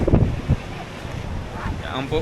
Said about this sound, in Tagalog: Malamig masyado yung hangin.